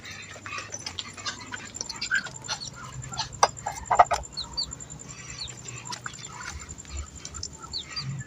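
Chickens cluck and peep inside a coop for day-old chicks on an Indonesian poultry farm, with scattered calls overlapping at moderate distance over a low background hum, and no talking.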